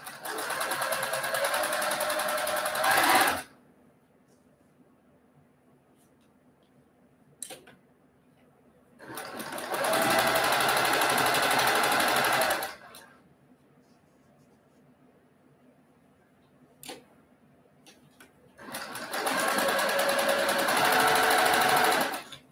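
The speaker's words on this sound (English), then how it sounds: "So I'm just going to go ahead and assembly line sew." A sewing machine stitches quilt block pieces assembly-line style in three long, loud bursts of rapid whirring, separated by quiet pauses with faint clicks and handling noises.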